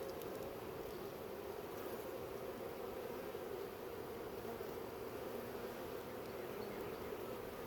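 A swarm of honey bees hums steadily and close, a dense unbroken drone with no break or change.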